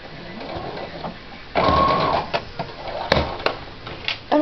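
A sewing machine stitching a fabric bow, a short back stitch: a steady mechanical whir that swells loud for about a second, then breaks into shorter bursts and clicks.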